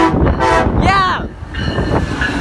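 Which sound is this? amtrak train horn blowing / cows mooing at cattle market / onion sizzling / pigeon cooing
amtrak train horn blowing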